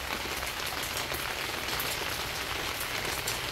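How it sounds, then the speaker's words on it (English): Soft, steady rain falls outdoors at a catering cookout, an even hiss of drops on surfaces with no voices, constant and moderately close throughout. "Y'all hear that nice rain?"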